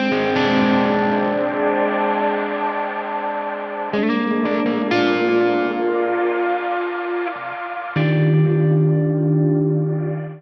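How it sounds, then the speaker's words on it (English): A sustained, heavily processed guitar tone with shimmering modulation and reverb sweeps, shifting abruptly in sections and swelling between changes, loud and with no talking. "you'll see all of that spectrum kind of move and then shift, and you'll kind of hear the"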